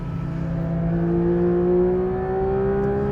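A 2023 Porsche 911 GT3 RS engine holds a loud, steady high rev with smooth rising harmonic tones, heard close and alone without any voices.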